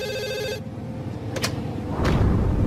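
An old telephone bell rings loudly for about half a second over a low background hum, then stops, followed by brief rustling and a dull thump near the end.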